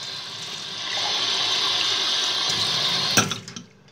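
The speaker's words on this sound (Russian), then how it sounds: "сейчас я беру кружку. Закрываю дверцу шкафа. Наливаю туда воду" Water poured from a tap or jug into a mug, a steady rushing fill lasting a couple of seconds before stopping with a clink and fading drips; close and fairly loud, with no talk.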